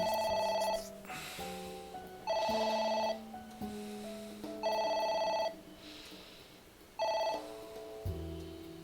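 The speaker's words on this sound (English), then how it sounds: "It won't stop ringing." Phone ringing in a video game: a loud electronic telephone ring repeats in four separate bursts with short gaps, ending in a low tone.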